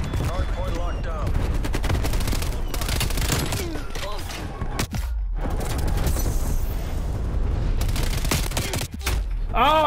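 Sustained gunfire from Call of Duty: Black Ops Cold War, dense bursts of rapid automatic shots and booms close and loud throughout, with brief pauses and some voices mixed in.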